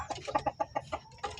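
A chicken clucking up close, a quick series of about ten short, rhythmic clucks over a quiet background.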